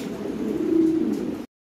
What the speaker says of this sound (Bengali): এখানে এক জোড়া কবুতর আছে ভাই,